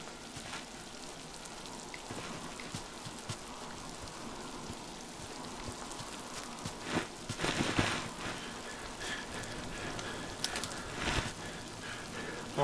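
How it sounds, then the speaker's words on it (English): Steady rain falls in the survival game Miasmata, a constant broadband patter with scattered louder drops and a few brief swells, heard alone without talk. "Starting to rain."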